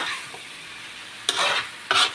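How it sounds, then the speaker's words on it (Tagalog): Banana heart with glass noodles frying in a pan gives a soft sizzle, then two sharp bursts of stirring close by. "si Papa Raul nagluluto ng puso ng saging na may sotanghon"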